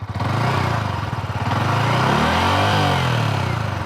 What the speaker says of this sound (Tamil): ஸோ இது தாங்க வண்டியோட எக்ஸாஸ்ட் நோட்டு.